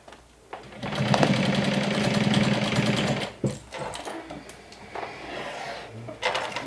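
A sewing machine stitching and back stitching the seam of a fabric wine bottle bag, with a sustained close whirring run, a short stop, then shorter bursts of stitching.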